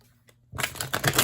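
A deck of tarot cards is riffled and shuffled after a brief quiet moment, giving a close run of papery flutters and soft slaps.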